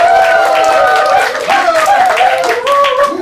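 Audience at a talk-show style stage event claps and cheers loudly and steadily throughout, a close, dense crowd sound with tonal voices and shouts woven through it.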